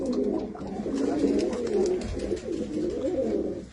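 A flock of pigeons, many of them white, kept at a home coos continuously in overlapping low throaty calls, close and steady throughout.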